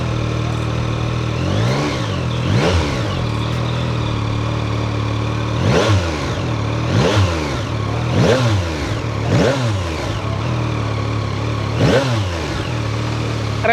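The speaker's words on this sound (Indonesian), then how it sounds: "khas banget mesin 3 silindernya Yamaha ya" A Yamaha MT-09 SP three-cylinder motorcycle engine revs repeatedly in short bursts, about eight blips rising and falling over a steady idle, close and fairly loud with no talking.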